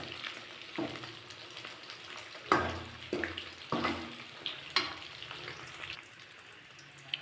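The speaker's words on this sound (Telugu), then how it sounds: "బాగా తిప్పుకుంటా వేయించుకోవాలి" Chicken kebab pieces fry in hot oil with a steady sizzle. Irregular stirring scrapes and clatters sound close by over several seconds, and no one speaks.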